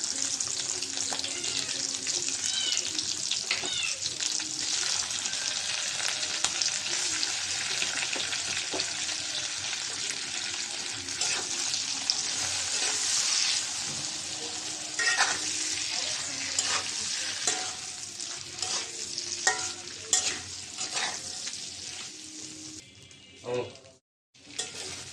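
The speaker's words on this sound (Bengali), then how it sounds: "আগে চিংড়ি মাছটা ভেজে নেব।" Prawns seasoned with salt and turmeric fry in hot oil in a pan with a loud, continuous sizzle, stirred now and then, before the sizzle briefly cuts out near the end.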